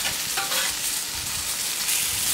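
Spring chickens grilling on a plancha griddle under a grate give a loud, continuous, close frying sizzle that hisses evenly throughout with no talk.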